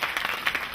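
Audience applause at a concert marking 140 years since Bulgaria's Liberation, a short burst of dense clapping from a hall crowd, steady and moderately loud with no voices.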